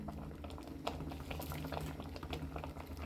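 Medicinal rice porridge with turmeric and salt bubbles at a steady boil in a pot, a quiet, continuous blipping and gurgling heard close up with no talk.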